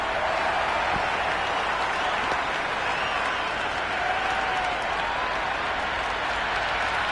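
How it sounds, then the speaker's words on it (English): Cricket stadium crowd at an India vs New Zealand one-day international applauds and cheers after a catch, a dense, sustained wash of clapping and crowd noise that fills the whole stretch, loud and continuous. "The crowd are really getting quite raucous."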